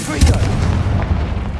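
A Confringo fire-blast spell erupts in Hogwarts Legacy, a heavy booming blast with a deep rumbling tail that fills the whole moment.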